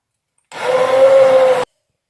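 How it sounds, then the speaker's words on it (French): An immersion blender whirs in tomato sauce in one loud, steady burst of about a second with a constant motor tone, starting and stopping sharply. "On lui met un petit coup de mixeur plongeant."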